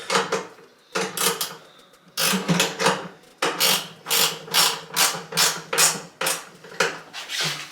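Fixings on a Duofix wall-hung toilet support frame being tightened with a ratcheting tool: repeated close bursts of clicking and rasping, steady and rhythmic, with short pauses between strokes.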